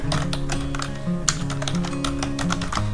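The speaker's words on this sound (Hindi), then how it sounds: "एंटर बटन प्रेस करते हुए हम क्या कर दे रहे हैं" Steady computer keyboard typing with a run of quick, close key taps and a firmer press of the Enter key, over a low continuous background hum in an office accounting software setting; no talking.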